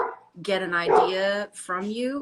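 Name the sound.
dogs barking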